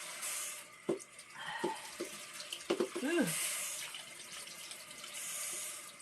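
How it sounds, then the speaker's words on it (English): Fingers are rinsed under a running tap at a sink, a soft steady rush of water with brief splashes and a short vocal sound partway through, fairly quiet and close. "let's wash off the fingers"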